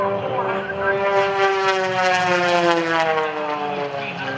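Aerobatic airplane diving at the 2012 Blue Angels Homecoming Airshow, flown by John Klatt: a loud, steady propeller-engine drone with a slowly falling pitch, continuous for several seconds under faint commentary.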